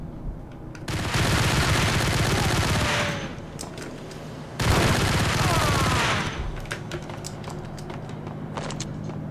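Gunfire in the Max Payne video game comes as two long, dense bursts of rapid automatic shots. A short gap separates them, and scattered sharp reports and clatter follow under a low background hum.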